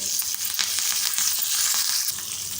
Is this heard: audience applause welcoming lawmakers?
no